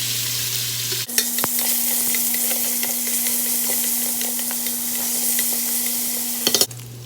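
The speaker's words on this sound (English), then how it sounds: "I'm just going to saute the bacon in there" Bacon sautéing in an Instant Pot, a steady close sizzle and crackle with scattered pops and stirring scrapes. It runs unbroken for several seconds, with a constant low hum from the pot underneath and no talking.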